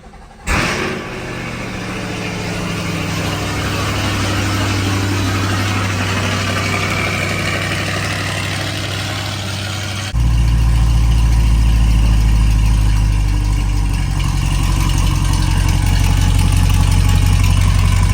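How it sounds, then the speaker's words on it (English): A 2023 C8 Corvette engine cranks and catches, then settles into a loud, rumbling idle that deepens and grows louder partway through. "let's go ahead and crank this thing up and pull it out of the garage"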